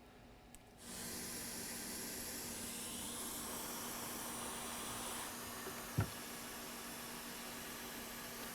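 A hot air station blows a steady, even hiss of air while desoldering a chip from an Xbox One board, constant and close, with one brief click partway through.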